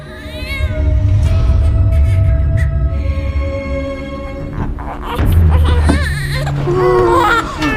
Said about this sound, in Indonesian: si bayi akhirnya bisa bernafas dan mulai menangis